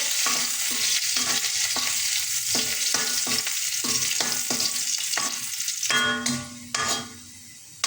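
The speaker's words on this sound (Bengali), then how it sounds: "রসুন আর শুকনো মরিচটা একটু ভেজে নেব।" Garlic and dried chili fry in oil in a pan, giving a loud steady sizzle broken by regular scraping spatula strokes about twice a second, the hiss easing slightly near the end.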